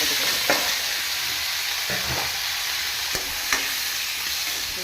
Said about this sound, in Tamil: நம்ம தக்காளி வெங்காயம் இதெல்லாம் ஒன்றா போட்டு வதக்கலாம்